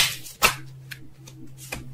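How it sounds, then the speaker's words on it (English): A deck of tarot cards is shuffled briefly at close range, a few soft riffling bursts and taps separated by short pauses in a quiet room. "Barely even got a chance to shuffle with this one."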